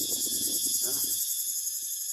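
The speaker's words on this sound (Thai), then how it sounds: "ฟังเสียงจักจั่นนำกันทุกคน เสียงจักจั่นใส่ละตัวมันอยู่ซ้าย" Cicadas buzz in a continuous high shrill drone throughout, steady and fairly loud, with someone speaking briefly underneath at the start.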